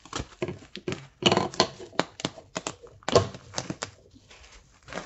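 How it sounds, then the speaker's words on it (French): Stretch film is pulled and wrapped around a steam generator during bed bug treatment, giving a run of close crackling, tapping rustles in uneven bursts. "on va l'envelopper de film étirable pour que les bestioles ne respirent plus en fait"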